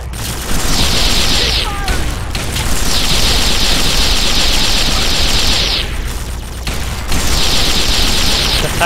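Sustained Fallout 3 gunfire in long loud automatic bursts, three extended volleys broken by short pauses, close and harsh over constant game noise.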